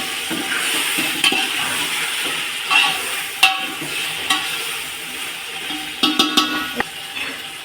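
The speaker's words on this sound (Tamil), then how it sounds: "ஒரு கிண்டிட்டு அப்புறம் மசாலா சேர்த்துக்கணும்." A chicken biryani mixture is stirred in a pot, with a low sizzle under repeated scraping strokes and sharp metallic clinks of the spoon against the pot, close by, no one speaking.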